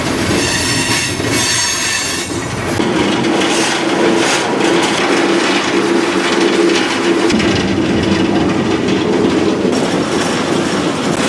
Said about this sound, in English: it's a major grind, and this is a loud train